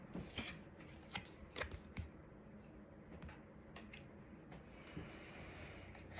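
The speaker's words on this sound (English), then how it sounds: "as I shuffle these cards as an energetic exchange" Tarot cards are shuffled in quick riffling bursts, soft and close, with pauses between the brushing, flicking rustles and no talking.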